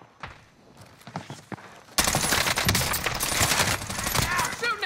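Sustained automatic gunfire in a shooter video game, aimed at the player, erupts loudly after a quieter opening with scattered sounds and a voice, then rattles on dense and close.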